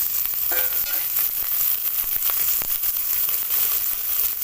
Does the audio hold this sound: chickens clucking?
no